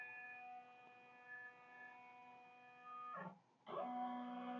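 An embroidery machine runs a trace of the design, a steady tonal motor whine that briefly dips, then surges back louder as the hoop moves, close and without talk.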